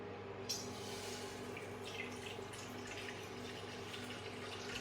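Faint trickling water is added while preparing a paan leaf home remedy, a soft, steady splash over a low background hum.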